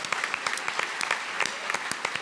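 An audience applauds at a live event, brisk, close claps forming a continuous burst for a couple of seconds.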